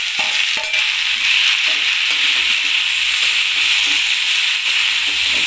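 Chopped tomatoes go into green beans sabzi frying in a pan, giving a loud, continuous sizzle with a few sharp stirring clinks near the start.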